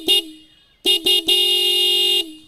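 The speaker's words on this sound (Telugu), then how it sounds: "హార్న్ యొక్క లౌడ్నెస్ అనేది ఒకసారి అయితే చెక్ చేద్దాం." Horn of a 2024 Bajaj Pulsar 220F motorcycle, sounded close and loud: one short beep, a pause, two quick beeps, then a long held blast of about a second before it cuts off, with no other sound around it.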